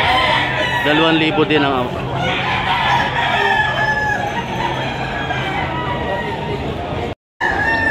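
An eight-month-old gamecock stag of Sweater bloodline crows loudly and clucks close by in a farm pen, almost without a break, while someone talks over it.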